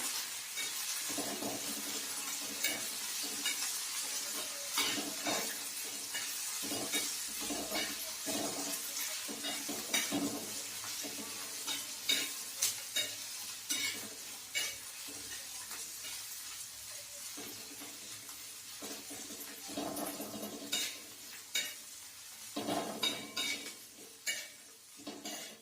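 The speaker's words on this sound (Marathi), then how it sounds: "लसूणही छान परतून घेऊ।" Garlic cloves sauté in a pan for a spicy green chili thecha, giving a continuous close sizzle broken by frequent scraping stirs and sharp clinks of a utensil against the pan.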